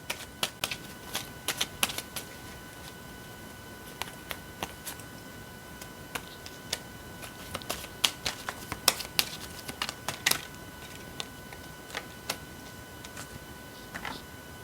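Tarot cards shuffled and handled at a reading table, with a run of sharp, irregular flicks and light snaps, some in quick bursts, close and fairly quiet with no voice over them.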